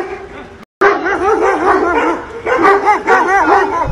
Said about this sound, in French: Je me suis fait attaquer par des chiens, encore des chiens, j'en avais marre d'eux.